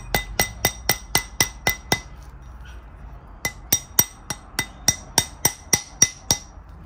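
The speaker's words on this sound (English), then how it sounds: "You can slowly bring it down the mandrel as you're hitting it." A hammer strikes a silver ring as it is worked down a steel ring mandrel, giving sharp metallic clinks in quick, even series, a run of eight, a pause, then a dozen more.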